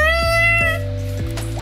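A cartoonish cat meows in the Roblox game Adopt Me: a couple of short, clear, tonal mews in quick succession, close and fairly loud with nothing else behind them.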